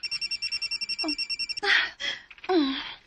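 A telephone rings with an incoming call, a rapid repeating electronic trill for about a second and a half, then stops as voices speak over it.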